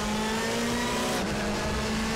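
WTCC touring race cars at Macau in the RaceRoom video game roar at high revs in a continuous, loud close pack, with engine whine holding steady.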